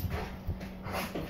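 A Norwegian Elkhound lets out a few short whimpers and soft yips at close range, brief and uneven bursts with no talking.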